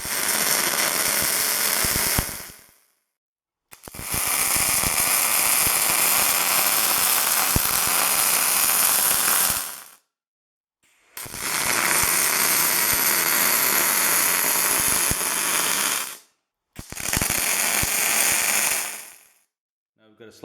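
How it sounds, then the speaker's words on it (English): Metal posts for a folding workbench being welded, with long, steady crackling and sizzling bursts of several seconds each, separated by short silent pauses, loud and close, with no speech over them. "first I'll weld these up solid"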